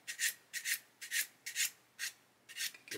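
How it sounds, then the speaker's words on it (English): Plastic parts of an Airfix 1/72 Hurricane Mk.1 model kit rubbed with the smooth side of a sanding stick, seven even back-and-forth rasping strokes, close and quiet. "Come along smooth side of the sanding stick."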